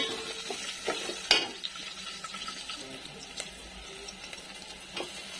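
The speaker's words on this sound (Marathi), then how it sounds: "आता कांदा टाकायचा आपल्याला, चांगलं परतून घ्यायचं आता आपल्याला" Chopped onion stirred in a hot pan for masala rice, with quiet sizzling and a few sharp scrapes and clinks of a spoon against the pan, faint and intermittent with some talk.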